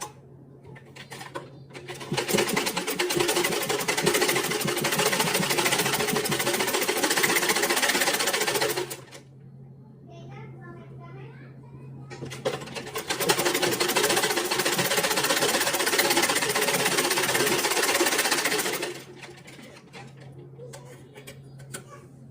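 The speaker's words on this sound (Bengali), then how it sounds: "সেলাই করে দিই।" A sewing machine stitches a fabric latkan in two long bursts of steady, rapid whirring, separated by a short pause with quieter handling sounds; no talking.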